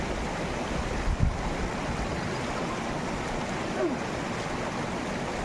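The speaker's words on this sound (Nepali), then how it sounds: "यो चाहिँ हाम्रो खोला हो" A river in Nepal flowing steadily over clean stones, giving a continuous broadband wash of running water, fairly near and unbroken, with faint wind in the background and no talking.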